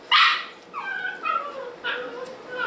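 Shiba Inu puppies and adult dogs let out a sharp bark followed by high, wavering whimpers and yips, fairly close and lively, with faint voices mixed in.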